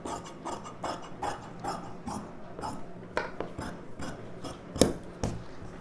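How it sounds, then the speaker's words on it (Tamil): Scissors cut a fabric piping piece for a blouse, making close, repeated crisp snipping and rasping strokes in a steady, uneven rhythm over soft rubbing of cloth. "பைப்பிங் பீஸ் கட் பண்ணியாச்சு"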